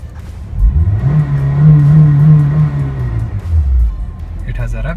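A Honda CR-Z engine starts and revs. It is a smooth, fairly quiet idle that rises into a sustained rev, holds, then falls back, close to the car, with a low rumble throughout.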